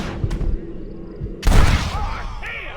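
Gunshots in Red Dead Redemption, a single sharp blast cutting through a low background rumble, close and loud, followed by a brief decaying tail.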